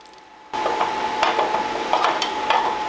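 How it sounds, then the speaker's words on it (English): Bolts being unscrewed from the top cover of a Bitcoin miner's power supply, a loud, close, steady whirring with repeated ratcheting clicks after a quiet start. "So once you get these top 2 bolts off, this piece will just come right out"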